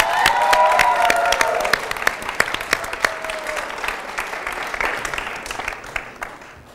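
An audience at an Armenian dance competition applauds Norair with loud, crisp, continuous clapping, a musical tone briefly heard at the start, the claps thinning slightly toward the end.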